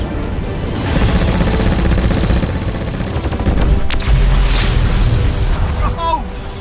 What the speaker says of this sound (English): let's see what this cannon can really do for a proper big finish